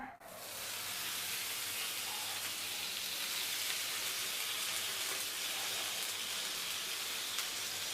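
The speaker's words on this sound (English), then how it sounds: "To make steam, sprinkle some water on the sides of the tawa." Loud, steady hissing and sizzling of water sprinkled onto a hot tawa griddle to steam kulcha, starting abruptly and continuing without pause.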